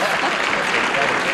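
A studio audience at a 1970s television game show bursts into dense, loud applause and cheering, a continuous wash of clapping filling the whole moment.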